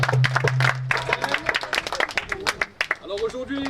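Church congregation at a baptism in Toulon clapping and applauding together, loud rhythmic claps with crowd noise, voices mixed in and a sustained tone at the start.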